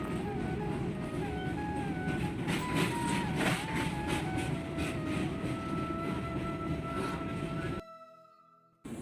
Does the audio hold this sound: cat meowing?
no